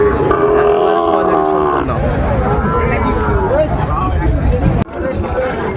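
Sahiwal bull calves low in drawn-out moos amid a crowd's chatter at a cattle market, the calls rising and falling over a busy background of voices.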